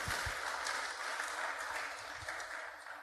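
A church congregation claps together at a dawn service, a steady spread of applause that sounds a little distant and holds at an even level, with no talking over it.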